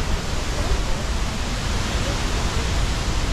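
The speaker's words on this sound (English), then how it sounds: "you hear the waterfall." A big rainforest waterfall near La Fortuna, Costa Rica, roars as a steady, dense rush of falling water, loud and continuous throughout.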